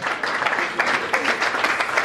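An awards ceremony audience applauds in honour of deceased artists, producing a dense, sustained wash of many hands clapping that fills the hall evenly for the whole stretch.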